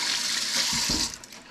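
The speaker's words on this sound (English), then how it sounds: "I'm just going to immediately rinse that stinky fish oil off of there" Tap water splashes steadily over a utensil as anchovy oil is rinsed off in a sink, a brief close hissing stream that fades at the end.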